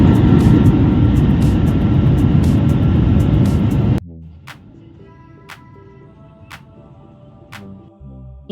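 Airliner cabin noise on a flight approaching Mumbai: a loud, steady engine and air roar for about four seconds, then a sudden drop to a quieter low hum with faint tones and occasional clicks.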